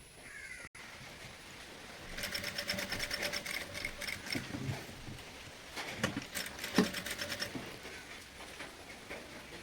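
Sewing machine stitching a heavy beaded kids top, a faint run of rapid rattling stitches starting after a quiet moment, with a few brief pauses and soft background noise.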